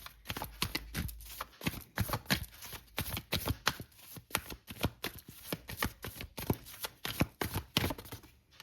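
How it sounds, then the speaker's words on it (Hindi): A deck of tarot cards is shuffled close up, giving a steady run of quick riffling and tapping bursts, fairly quiet, with no speech. "आप इसे शफल करेंगे।"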